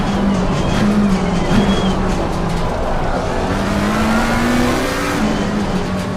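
Race car engine in the Low Fuel Motorsport sim at Silverstone, droning steadily loud with a rising pitch as another car closes from behind, tyres faintly squealing, no talk.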